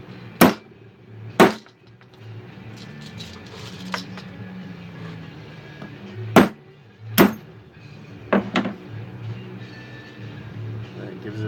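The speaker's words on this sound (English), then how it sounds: "I'm going to whack this a few times, a hammer." A hammer strikes a silver half dollar coin being shaped into a ring, giving sharp metallic whacks spaced a second or more apart, loud and close, with quiet room noise between blows.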